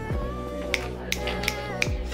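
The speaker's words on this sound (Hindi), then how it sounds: "क्या चुटकी बजाई है यार" Fingers snap five times at a steady, unhurried pace, crisp and close, over a low continuous household hum.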